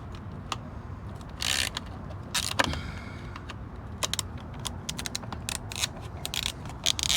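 A screw is unscrewed from the bumper area of a Hummer EV, heard as close, quiet metallic clicks and ratcheting ticks in an irregular rhythm, with no speech.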